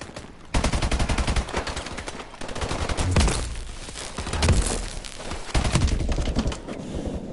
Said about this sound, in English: I was providing cover fire